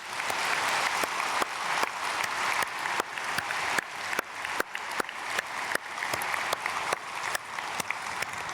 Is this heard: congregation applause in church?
yes